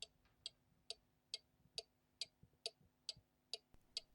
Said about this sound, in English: The sound of the cuckoo clock in the back room.